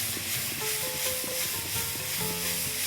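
Mushrooms sizzle and are tossed in a hot kadai, with a steady dense hiss of frying and occasional clinks and scrapes from stirring, close and continuous.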